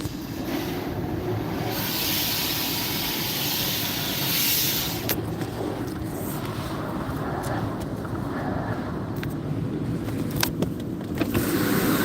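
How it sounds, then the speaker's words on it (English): Steady loud whooshing and rumbling of an automatic car wash around a car, with water-like hiss and occasional sharp clicks and knocks, continuous throughout. "I love going through car washes"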